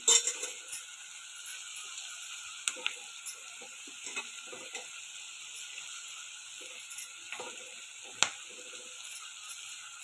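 Sprouted green gram tipped onto fried tomato and onion in a pan makes a soft, steady background sizzle scattered with light clicks and clinks of utensil and pan.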